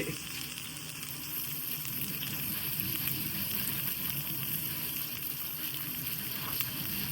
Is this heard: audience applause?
no